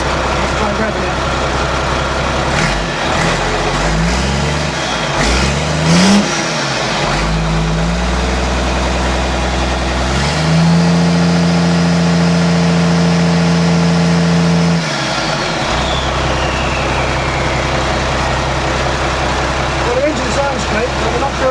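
A wrecked truck's engine revving inside the cab, a loud steady mechanical drone rising in pitch through several throttle blips, then holding a sustained high idle before dropping back down.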